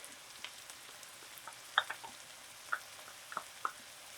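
Garlic sautéing in a pan for bacon jam, a faint quiet sizzle with a few soft clicks and stirring taps.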